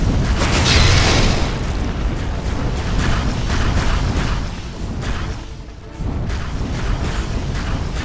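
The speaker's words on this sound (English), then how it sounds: "Radiant's bottom tower is under attack." Dota 2 match with a tower under attack: a dense, loud wash of booming impacts, crashes and spell effects rolls on continuously, with a brief dip before the clatter resumes.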